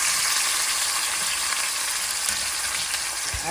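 A braised spice pork roast browns in hot oil, producing a loud, dense, continuous sizzle close by, with a faint knock near the end.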